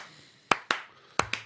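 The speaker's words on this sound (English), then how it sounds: "This feels like a fucking time for a slow clap." Four slow, isolated hand claps ring out close and loud, evenly spaced with short gaps between them and nothing else heard.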